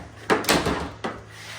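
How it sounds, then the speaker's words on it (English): A plastic Jeep door pocket is pulled and pops off with a few sharp nearby snaps and a short scraping rub, followed by one more quick click. "grab that door pocket and just kind of pull it, and it should kind of just pop right off the bottom"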